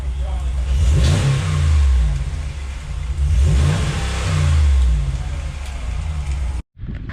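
Exhaust note of a 2019 RAM 1500 pickup fitted with a new exhaust, revved twice in a row with deep rising and falling engine swells, loud and close before a brief cut.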